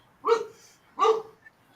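A dog gives two sharp barks about three-quarters of a second apart, close and fairly loud, with nothing else around them.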